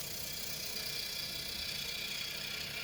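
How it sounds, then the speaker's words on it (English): A wood lathe spinning a maple blank at roughly 600 to 700 RPM makes a steady, even whir with a bright cutting hiss from a bowl gouge. The sound holds unchanged throughout and is heard close up. "I'm using a bowl gouge here, and lathe speed's probably about 600 or 700 RPM"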